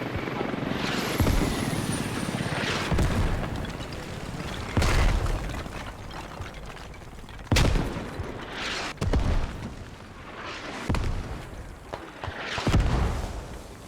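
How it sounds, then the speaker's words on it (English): Mortar shells from the game Squad slam down near a base in a series of heavy booms roughly every couple of seconds, set against a steady helicopter-like rotor drone. "Now I think it's Itchy or Chris Pixley that managed to call out that this hab is mortarable, and the mortars are landing close to it."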